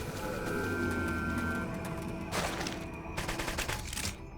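Sustained gunfire rings out during a Xenoblade Chronicles X battle, a dense, continuous barrage with sharper bursts of shots toward the end, loud and close, mixed with game effects and no talking.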